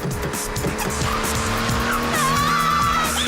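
A cartoon car skids out of control with a loud, sustained tire squeal that wavers in pitch over a constant roaring engine, up close throughout.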